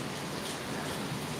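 Heavy rain falls outside in a dense, steady hiss of countless drops on surfaces, continuous and even throughout with no voices.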